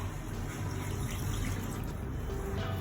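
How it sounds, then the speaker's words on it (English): Masala water is poured into a chicken curry in a pan, a soft continuous liquid splash and trickle heard close and quiet throughout. "Now add this"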